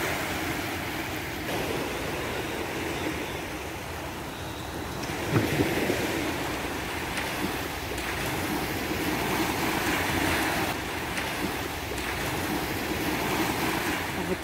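Sea surf on the beach at Sharjah, heard from inside a hotel room, washes in as a steady, soft, continuous roar with gentle swells and no voices.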